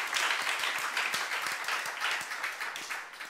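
Applause at a church youth service, a dense steady patter of many hands clapping at a moderate distance that continues without a break through the whole few seconds.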